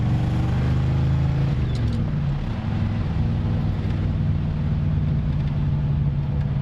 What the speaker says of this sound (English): We'll downshift here to second gear,